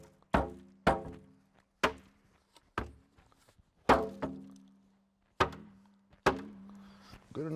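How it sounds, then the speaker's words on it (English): A metal bait barrel holding a rotting beaver carcass is banged as a dinner bell to call a bear: about ten hard, hollow clanging knocks at irregular intervals, each ringing briefly with a low resonant tone before fading. "We've got to ring the dinner bell."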